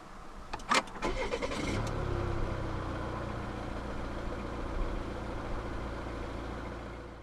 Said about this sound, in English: To start the V70, insert the key fob into the slot right here, put your foot on the brake, and press the start button right above the key slot.